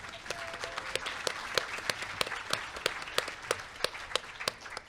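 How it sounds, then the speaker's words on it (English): Audience applause for librarians at a conference session on federal funding and policy, a steady patter of many hands clapping with sharp individual claps standing out, moderately loud and continuous through the whole stretch. "Let's give a round of applause for our librarians."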